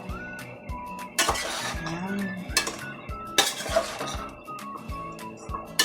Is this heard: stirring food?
yes